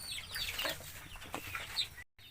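A broody hen kept on eggs clucks in short, scattered bursts at moderate distance over faint background noise, with a brief silent gap near the end and no speech.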